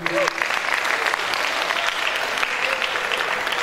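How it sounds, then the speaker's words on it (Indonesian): An audience at a Linux and open source conference talk in Indonesia claps in steady, dense applause that fills the room, starting right after a brief spoken word and holding at an even level throughout. "Tepuk tangan buat Open Source ID."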